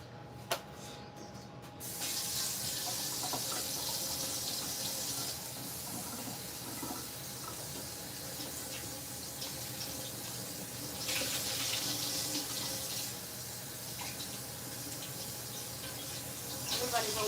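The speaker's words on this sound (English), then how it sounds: "I'm gonna rinse this out a little bit." Water running steadily from a tap as something is rinsed out, a continuous close hiss and splash lasting about fifteen seconds that swells partway through, with occasional faint speech.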